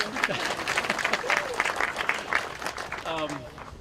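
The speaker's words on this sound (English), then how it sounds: "You can clap, that's good." Outdoor crowd applause at the ceremonial opening of Wellesley's new track and field facility: a rippling burst of clapping from many spectators, with voices talking through it.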